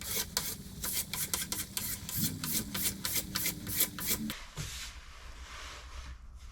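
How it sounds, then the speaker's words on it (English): A plastic scraper drags across a waxed snowboard base in quick, repeated rasping strokes, close and fairly quiet, before stopping near the end. "Now we got all the wax scraped off."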